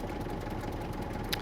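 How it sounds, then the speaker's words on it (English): A tractor engine in the survival game SCUM runs at a steady idle with a low, throbbing chug. It stays constant throughout with no talk over it. "Dude, I love this tractor. It just sounds cool. It sounds like it's powerful."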